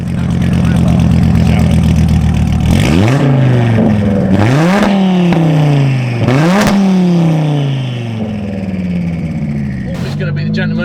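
A 1400-horsepower Audi TT RS with a DSG gearbox accelerates hard, its engine rising in loud repeated sweeps as each quick gearshift drops the revs and it climbs again, close and dominant throughout.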